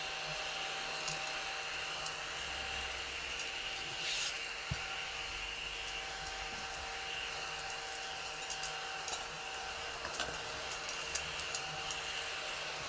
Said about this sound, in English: I got this little vacuum to vacuum it up.